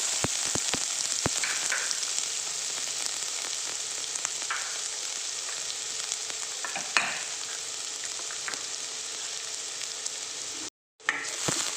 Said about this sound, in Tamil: எண்ணெய் காஞ்சோடனே வெங்காயத்தை போடுறேன்.